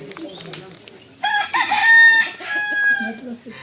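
A large male chicken with feathered feet crows once, a loud, drawn-out call rising and holding, at a mountain farm, after softer clucking and background chatter, with faint voices around.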